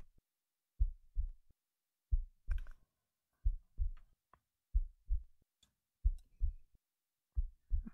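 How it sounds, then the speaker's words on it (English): A slow, calm heartbeat heard up close, steady soft double thumps repeating evenly with faint clicks in between, alone in near silence. "I can hear your heartbeat."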